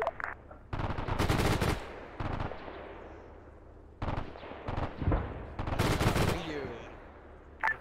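Heavy bursts of machine-gun fire in a World War II battle in Arma 3 set in Italy, 1943, loud rattling volleys with pauses between, some echoing farther off, with voices talking in between.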